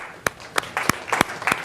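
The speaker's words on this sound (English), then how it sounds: "Let's give them a round of applause." A class applauds its top five winners in a lecture room: a short round of sharp, separate hand claps, about six distinct loud slaps at a fairly even beat, close and clear.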